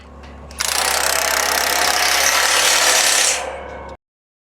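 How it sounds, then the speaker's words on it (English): A power tool tightens bolts on a steel shade-structure frame in one loud, continuous burst of roughly three seconds, starting abruptly and ending with a quick drop to silence. "We're going to go ahead and tighten up about 4 bolts just to keep it in place for the time being."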